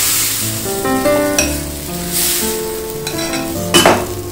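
Karupatti appam batter sizzles in a hot appam pan, a close, steady frying hiss with light scraping and metallic clinks as the pan is handled.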